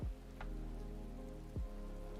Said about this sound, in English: Sleep through the rain, maybe?